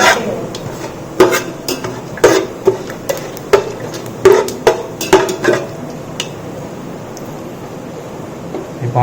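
A spoon clanks and scrapes against a metal pot while stirring and sautéing for Vaniyambadi chicken biryani, with sharp, close, irregular knocks in a loose rhythm over a faint background sizzle that tapers off.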